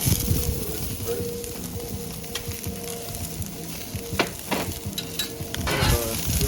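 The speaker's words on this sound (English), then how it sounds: "I'm gonna go ahead and add a little bit of oil just so I can cook the veggies" Vegetables sizzle in oil on a Blackstone flat-top griddle at medium heat, a dense crackling hiss with spatula scrapes and taps, close and steady with no speech.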